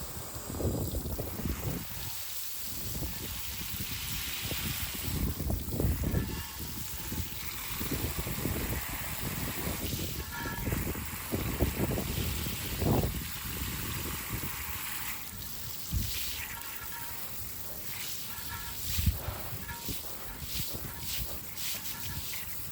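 Water sprays and trickles over a car wheel and tire, rinsing off Meguiar's wheel and tire cleaner suds, a steady close hiss with splashing bursts and some wind noise throughout.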